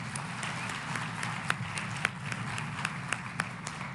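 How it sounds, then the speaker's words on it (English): Audience at a conference of mayors claps in a steady round of applause, many hands with a few sharper individual claps standing out, moderately distant and continuous with no speech. "Everybody, let's give her a round of applause."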